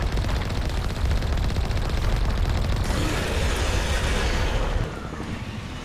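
A cannon blast and heavy explosions rumble inside the video game Mass Effect, a dense, loud, continuous roar of booming detonations that eases off slightly near the end, with no talking.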